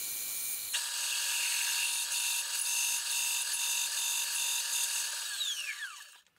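A drill bites into metal on a mill with a high, steady whining grind, boring a hole for an RX7-to-electric conversion adaptor plate, holding for several seconds before spinning down and fading out.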